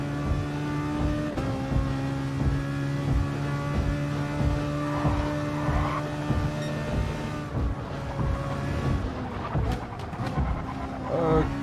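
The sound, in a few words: race car engine at top speed in video game Gran Turismo Sport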